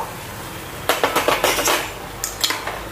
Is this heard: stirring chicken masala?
yes